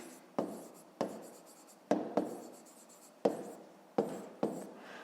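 A pen scratches across paper in a series of short strokes, about seven distinct bursts with brief pauses between them, close and fairly quiet, with no one talking.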